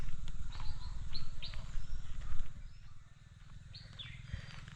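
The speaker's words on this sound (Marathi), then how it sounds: "बघा पक्ष्यांचे आवाज वगैरे बघा मस्त" Several birds chirp and whistle in short bursts in the morning over a low rumbling background, with no one speaking.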